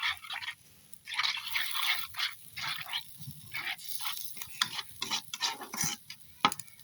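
Meat with spices being stirred and browned in a pan, a utensil scraping in quick uneven strokes with soft sizzling underneath, close and fairly loud, no voices.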